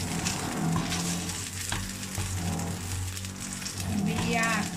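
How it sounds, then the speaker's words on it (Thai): Shrimp paste stir-fries in a pan for Thai shrimp-paste fried rice with canned fish, giving a steady close sizzle with scraping stir strokes and light crackles, while a voice talks over it. "คั่วให้กะปิหอมๆก่อน"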